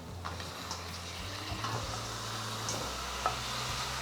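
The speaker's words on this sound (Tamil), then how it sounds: "இப்போ நம்ம சுத்தப்படுத்தி வச்சுருக்கிற காடை துண்டுகளை சேர்க்குறோம்" Cleaned quail pieces go into a hot nonstick pan and set off a soft, steady sizzle with light stirring knocks, fairly quiet and without talk.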